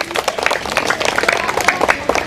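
A classroom of primary school children claps for a correct answer, dense quick applause from many small hands, loud and close, with a few voices mixed in.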